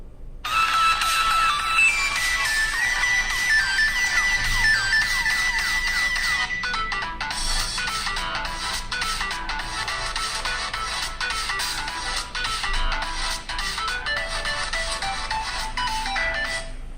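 A melodic ringtone plays continuously through the front-firing speakers of an HTC Desire 610 phone, bright and steady for the whole stretch, with no talking.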